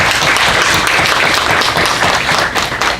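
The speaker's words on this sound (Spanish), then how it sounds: "Bueno, aplausos para el expositor," Audience at a workplace vibration-assessment conference applauds a speaker, a loud, dense and steady wash of clapping held at full strength for about three seconds with no voices over it.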